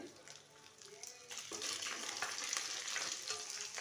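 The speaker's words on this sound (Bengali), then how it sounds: "আমি দেখো যে রাঁধুনি ফোড়ন দিয়ে দিলাম" Radhuni seeds tempering in hot oil for a matar shak and fish-head dish, a steady crackling sizzle that grows louder and busier partway through, with faint voice in the background.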